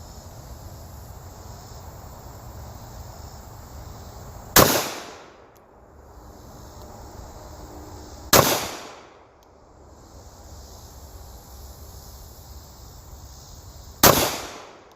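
Sig P938 pistol fired at a shooting range: three loud, sharp gunshots spaced several seconds apart, each cracking over a steady outdoor hiss and ringing briefly before fading.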